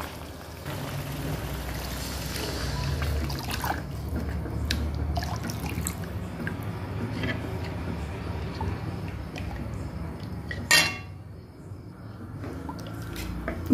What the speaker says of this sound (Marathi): आता यात आपण पाणी ॲड करणार आहोत